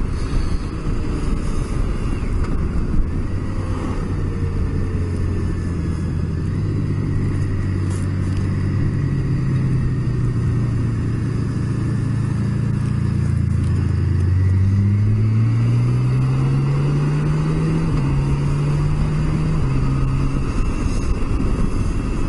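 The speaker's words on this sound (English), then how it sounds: "This motor bicycle is just remarkable to ride, it really is." A motor bicycle ridden along a road, recorded on a helmet camera, gives a steady, loud engine drone that climbs and falls in pitch, with wind rush throughout and no speech.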